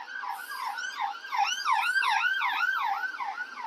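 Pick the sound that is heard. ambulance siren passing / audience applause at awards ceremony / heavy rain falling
ambulance siren passing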